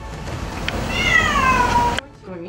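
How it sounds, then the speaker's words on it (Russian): A cat meows off camera inside a damaged, sagging house, a rising then falling drawn-out call heard fairly close over steady background hiss, ending abruptly before faint voices follow. "Кошачье мяу за кадром"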